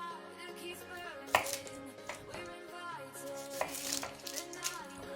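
A knife chopping an onion on a board, a few sharp knocks over a busy background of steady tones.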